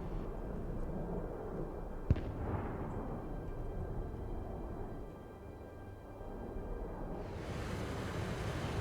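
An A-10 Warthog strafing run in the war game Broken Arrow: a long, heavy rumbling roar with a single sharp crack partway through, then a rising hiss of noise toward the end.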